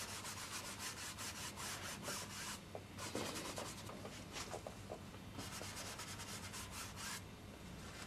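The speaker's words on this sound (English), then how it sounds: "With a bristle brush, you see, you can work it and you can flatten it and you can do what you want with it." Bristle brush working oil paint on a canvas, giving a steady close scratchy rubbing in bursts of strokes, with no talk.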